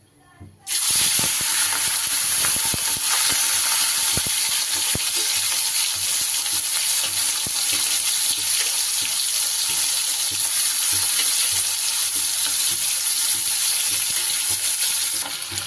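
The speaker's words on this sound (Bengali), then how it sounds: "এবার চিংড়ি মাছগুলো ভেজে নিই।" Prawns fry in hot rice bran oil, a loud continuous sizzle and hiss with scattered crackles and stirring noises, starting suddenly after a brief quiet moment and holding steady throughout.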